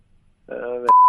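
Telephone dialing: a brief burst of keypad tones followed by a clear, steady electronic beep lasting a fraction of a second, close and loud.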